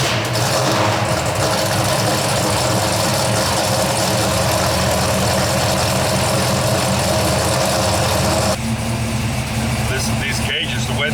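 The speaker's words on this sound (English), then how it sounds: "So let's do us a cold start." A 1972 Hemi Cuda with coilovers front and rear runs at a steady, loud idle after a cold start, its low engine rumble continuous throughout and a slight change in tone near the end.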